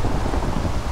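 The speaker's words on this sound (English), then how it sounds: "Oh my god, you hear the storm too?" Rain and thunder from a Minecraft thunderstorm fill the scene as a loud, dense, steady wash of noise with a low rumble beneath it, with no talk.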